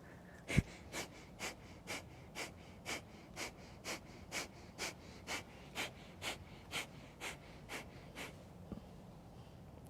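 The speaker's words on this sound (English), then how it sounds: "And then breath of fire here." Breath of fire, the rapid Kundalini yoga breath, is heard as a close run of sharp, even nasal exhales of about two per second, repeated around fifteen times. There is no talking.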